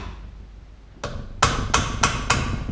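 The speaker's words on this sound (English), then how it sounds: "Tap it with the rubber hammer just to get the keeper seated." A rubber hammer strikes a valve spring retainer to seat the keepers on an engine cylinder head being worked on a bench: five sharp taps in quick succession, the first lighter, the rest crisp and close.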